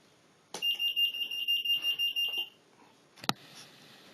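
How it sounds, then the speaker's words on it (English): A data radio base unit's buzzer beeps in a rapid string of about ten even, shrill pulses, signalling motion picked up by a field radio's burglar alarm, then stops before a single sharp click. "any motion detected causes the base radio buzzer to beep"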